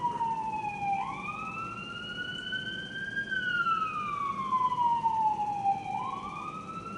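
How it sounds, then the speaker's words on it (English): A loud siren wails alone, its pitch sweeping slowly up and down in long rising and falling cycles. "So you incorporate the siren sound"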